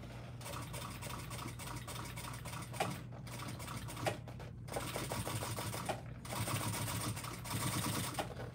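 A sewing machine stitches a tote bag with a steady, quiet mechanical whir and a few brief pauses. The clicks and thumps of fabric handling are faint and close by.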